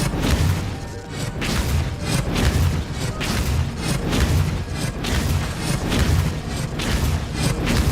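Expelliarmus spell effects in the Hogwarts Legacy video game: a dense run of booming, crashing magic impacts with repeated whooshing bursts, loud and continuous over eight seconds amid game combat noise.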